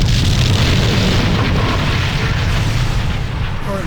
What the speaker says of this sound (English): And all the explosions cause lag.